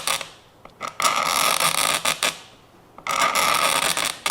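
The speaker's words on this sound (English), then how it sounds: "So we're very carefully going to scrape it away." A hobby knife is dragged carefully along a seam line on a plastic V-2/A4 rocket model kit, making close, dry rasping scrapes in several short strokes separated by brief pauses.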